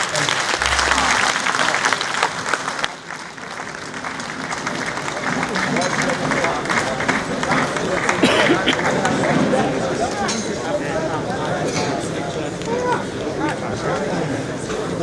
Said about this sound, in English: Can we give another round of applause to the special guest of honor?